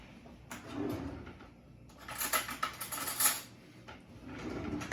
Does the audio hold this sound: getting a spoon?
yes